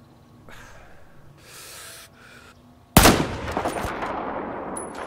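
A single loud, sharp sniper rifle shot cracks in the Battlefield 4 video game, following a few soft rustling movements, then rings out with an echoing tail and faint clicks.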